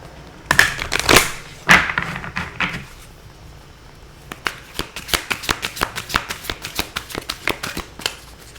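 Oracle cards are shuffled close by, opening with a few heavy riffles and then a long, quick run of crisp, even card flicks.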